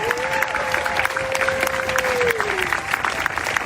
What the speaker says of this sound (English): Let's give a round of applause to the DJ.